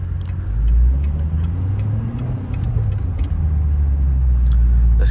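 A C7 Corvette driving in winter with its exhaust set to track mode gives a steady, deep engine and exhaust rumble that swells slightly early on and holds loud and close throughout, with no talking.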